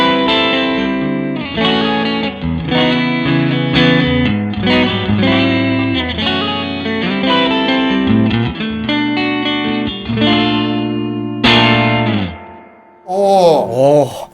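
Electric guitar played through a hand-wired distortion pedal with reverb added, sustained distorted chords and single notes ringing with a wash of ambience, ending in a few rising pitch-bent swoops.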